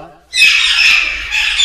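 Locally bred birds at a large bird nursery in Namangan squawk loudly and continuously, a harsh, sustained chorus close by.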